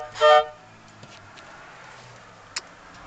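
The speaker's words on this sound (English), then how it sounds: "It has air horns." A single short, loud toot from the air horns fitted to a 1996 Toyota Tacoma pickup, heard alone, followed by faint ticks and quiet background.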